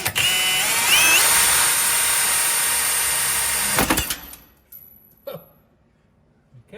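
A hole saw cuts a hole during a supercharger install on a car, a loud, steady high whine for nearly four seconds that cuts off abruptly, leaving a few clunks and quiet handling noises.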